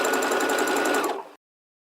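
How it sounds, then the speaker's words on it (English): A sewing machine runs a straight stitch along fabric binding, a fast steady whirring chatter up close that stops abruptly after just over a second. "So I'm just sewing with a straight stitch."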